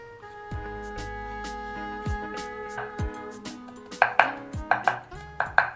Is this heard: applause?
no